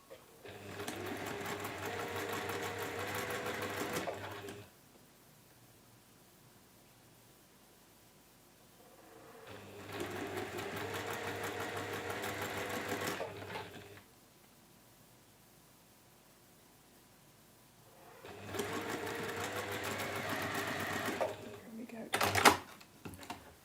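A sewing machine chain-pieces quilt pieces in three separate bursts of steady, close whirring stitching, each lasting about four seconds, with quiet gaps between them and a few sharp clicks at the end.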